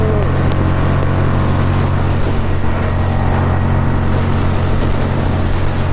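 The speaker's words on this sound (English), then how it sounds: "Exhaust, go!" A motorcycle exhaust roars loud and close, a constant throaty engine drone with no pauses throughout.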